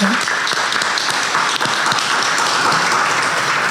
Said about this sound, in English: can we just give a round of applause to everybody?